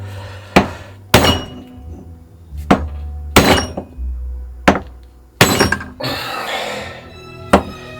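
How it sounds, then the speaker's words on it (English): Hammer blows driving a piece into place on the ground, about eight loud close hits spaced irregularly, some ringing with a faint glassy clink between them. "I'm going to put it on the ground and try and hammer it in that way."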